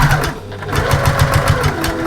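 Sewing machine stitching a very small fabric seam on a home storage caddy, a close, fast, even mechanical chatter that runs the whole time.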